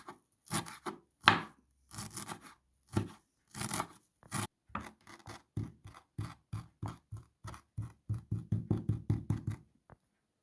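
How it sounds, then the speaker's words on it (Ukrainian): A knife finely chopping a bunch of dill on a board, giving a series of crisp rhythmic taps that start sparse and grow into a quicker, steady run before stopping, close and clear with no talking. "І дрібненько нарізуємо зелень."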